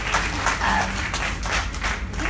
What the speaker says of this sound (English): you guys are welcome to clap for her